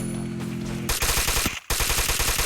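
Rapid automatic gunfire in a shooting video game rattles in a fast, steady stream of loud, close shots, briefly cut off before resuming.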